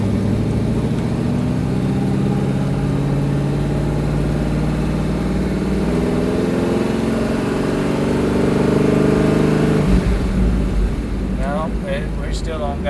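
An old wagon car's engine drones steadily at close range, its pitch climbing as it accelerates, then dropping as the gears shift partway through.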